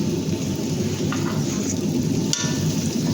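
Mushrooms and vegetables seasoned with black pepper sizzle and crackle steadily in a pan as they are sautéed, with a continuous frying hiss and occasional stirring clatter close by.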